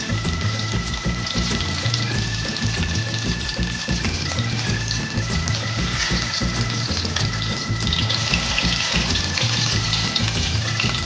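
Egg-free potato pancakes fry in a pan with a steady, close, loud sizzle and crackle that continues without a break, and no voices are heard.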